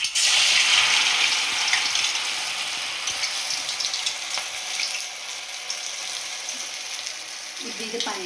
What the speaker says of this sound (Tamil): வாங்க ஃப்ரை பண்ணி எடுத்துக்கலாம்.